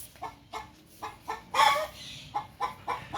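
Hen clucking in a backyard chicken coop before laying an egg, a series of short, rhythmic clucks with one louder, drawn-out squawk midway, heard from a moderate distance without talk.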